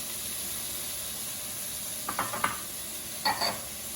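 A steady, soft sizzle hisses from a hot pan of cauliflower and broccoli stir fry, with a few brief louder crackles and stirring bursts near the end.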